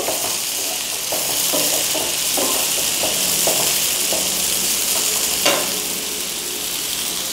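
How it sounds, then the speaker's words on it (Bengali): Boiled vegetables are stirred in a frying pan for an easy picnic veg dish, a constant loud hiss of frying underlying a run of quick spatula taps and scrapes, one sharper clack near the end, with no talking. "এর মধ্যে আমি যে সেদ্ধ করা সবজিগুলো ছিল সেগুলো দিয়ে দিলাম। ভালোভাবে নাড়াচাড়া করব।"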